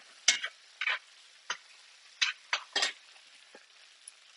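A favorite spoon stirs browned spätzle in a pan, giving a handful of short scraping, sizzling strokes spread unevenly over a few seconds, fairly close and soft with no talk.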